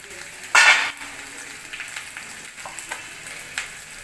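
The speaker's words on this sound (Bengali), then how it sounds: "এখন আমি ভেন্ডিটা দিয়ে দিব, একসাথেই ভাজা হয়ে যাবে। ভেন্ডি ভাজা করব।" Okra and chopped onion frying together in mustard oil in a wok: a sharp burst of loud hissing as the okra goes in, then a softer steady sizzle with light scraping of stirring.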